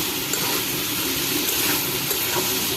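Broth pours into a pan of papaya and potato cooking for a fish curry, making a steady watery rush and hiss that lasts the whole moment with no talk.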